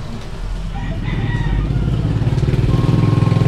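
A Yamaha Aerox scooter engine starting up after repair, its idle building into a loud, close, steady low putter that grows stronger and more rhythmic.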